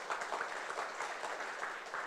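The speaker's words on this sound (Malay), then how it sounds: "Satu tepukan untuk MUA." Audience applause for a make-up artist at an awards-style event, a dense steady wash of clapping from a crowd, fairly loud and continuous throughout with no speech over it.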